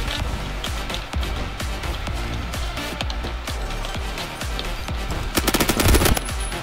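An AUG A3 rifle fires in Phantom Forces as a rapid string of close, punchy automatic shots in short steady bursts, building to a denser, louder volley near the end.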